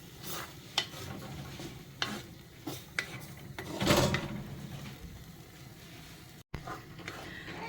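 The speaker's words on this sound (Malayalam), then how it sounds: "അരപ്പ് ചേർത്ത് നന്നായിട്ട് ഇളക്കി കൊടുക്കുക." Ground coconut paste being stirred into carrot pachadi in a pan, a close scraping stir with a gentle sizzle and occasional sharper clinks of the spoon on the pan, fairly quiet and continuous.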